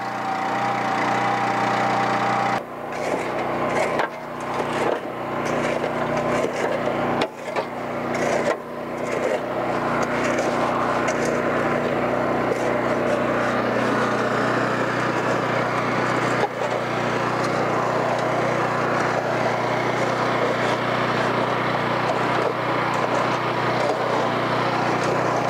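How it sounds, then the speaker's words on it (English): An engine runs steadily on a machine with a conveyor and a preheat hopper, giving a loud, constant mechanical drone with a few knocks and clunks early on. No one speaks. "First, obviously, we fire up the engine."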